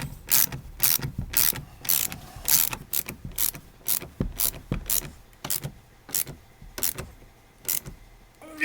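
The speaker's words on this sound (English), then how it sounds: "Right now that's compressing the plus nut." A hand tool cranks in repeated ratcheting clicks to compress a plus nut for a Mercedes Sprinter front door grab handle, each stroke a sharp metallic burst in a steady rhythm of about a dozen close, loud turns.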